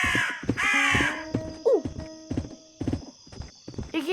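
A crow caws a few times in the Westbound video game, its harsh calls cutting through steady horse hoofbeats and a brief whinny, with a voice speaking in between.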